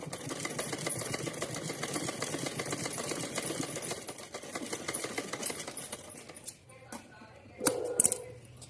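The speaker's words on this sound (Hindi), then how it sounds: "हम इसको रखेंगे और इसके ऊपर ऐसे सिलाई लगा लेते हैं" A sewing machine runs a steady whirring stitch through fabric for a Kanha doll outfit, continuous and close for most of the stretch, then breaking into stops, clicks and short bursts near the end.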